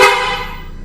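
A single short blast from a PIAA aftermarket car horn fitted to a BYD Sealion 6, loud and close, with a bright multi-tone sound that fades quickly.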